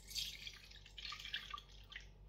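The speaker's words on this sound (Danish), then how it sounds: "Har du lyst til at hælde colaen igennem den her sil, Osvald?" Cola trickles and drips through a small kitchen strainer, a faint, continuous splashing with scattered droplet sounds and no voices.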